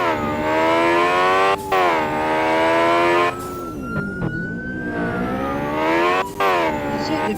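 Engine of a car driving in the Roblox video game, a loud, steady harmonic drone with several rising pitch sweeps and brief dips between gear changes, no talking.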